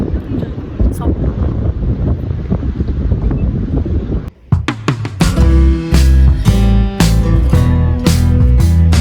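Strong wind buffets the microphone beside a lake in a park, a loud, continuous roar that breaks off for a moment and then returns mixed with rhythmic knocking or tapping sounds.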